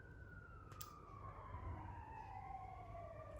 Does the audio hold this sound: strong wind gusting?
no